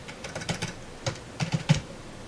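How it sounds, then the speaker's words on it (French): Typing on a computer keyboard while coding JavaScript: a quiet run of light, irregular key clicks in small clusters, close by and with no voices. "je tape hello"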